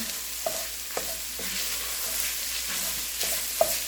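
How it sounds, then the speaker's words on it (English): A spoon scrapes along the bottom of a pot of lasagna soup with tomato sauce, several regular stirring strokes about every half second over a low bubbling sizzle, close and without voices. "I'm going to stir this up. Scraping the bottom."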